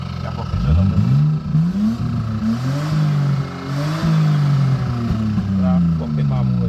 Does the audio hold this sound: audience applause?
no